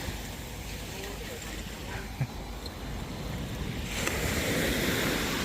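Ocean surf washes steadily around a boat moored off the Similan Islands, a constant close rush of waves mixed with wind buffeting the microphone, swelling louder near the end.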